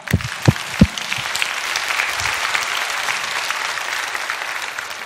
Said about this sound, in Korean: 하나님께 박수합시다.